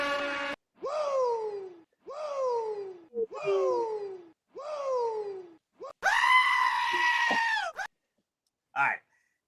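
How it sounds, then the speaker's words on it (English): Goats bleat loudly and close in a run of five drawn-out, descending cries, followed by a longer, higher wavering bleat and a final short call, with no talk over them. "The goats."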